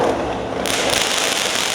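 Fireworks go off at a skatepark as a dense, continuous crackling burst of firecrackers, loud and close, with no pause across the short stretch.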